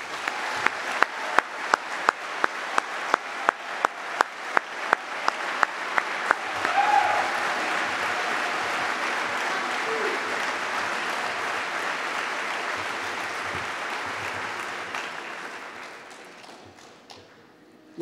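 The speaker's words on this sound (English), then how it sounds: "Please help me in giving Mr. Sinise another round of applause." A large audience at a formal award ceremony breaks into sustained applause. It starts with a few sharp rhythmic claps, swells into dense, steady clapping filling the hall, then fades gradually toward the end.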